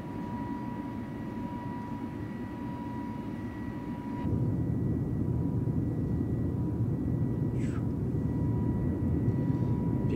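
Airbus A320neo (FlyByWire A32NX) jet engines at climb thrust in Microsoft Flight Simulator, a steady low roar that grows louder about four seconds in, with a faint tonal whine above it, no talk.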